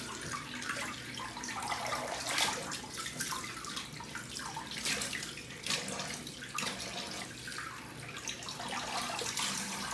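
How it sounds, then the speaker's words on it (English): Cold tap water runs steadily into a sink for a shaving rinse, with splashing and gurgling that rise and fall as hands move through the stream, fairly close and unbroken. "Cold water rinse."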